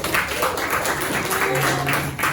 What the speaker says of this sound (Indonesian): Sekali lagi kita beri tepuk tangan dong